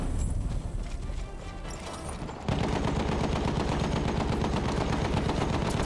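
Rapid gunfire crackles through a Battlefield 1 match, starting sparse and distant, then becoming a loud, dense stream of repeated shots that runs steadily to the end.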